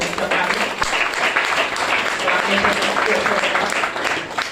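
Sustained applause from an audience at a wellness products information session, a steady dense patter of many hands at close to moderate distance, filling the whole stretch without pause.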